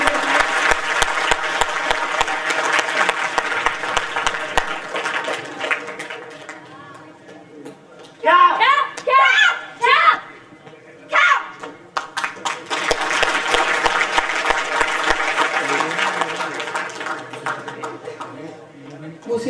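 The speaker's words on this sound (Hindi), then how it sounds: "जोरदार तालियां होनी चाहिए।" A large crowd at a community student award ceremony applauds loudly for several seconds, briefly gives way to a voice speaking, then bursts into sustained applause again.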